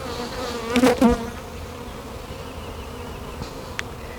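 Honey bees buzz around an opened hive during a check and split, with one loud, close wingbeat drone swelling near the start over a steadier background hum and a faint click.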